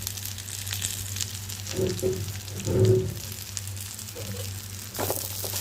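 Drumstick leaves (murungai keerai) sauté in a pan for a Tamil chutney, giving a steady low sizzle with a few soft stirring scrapes.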